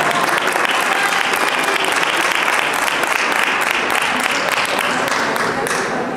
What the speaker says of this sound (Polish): Dziękuję i brawa.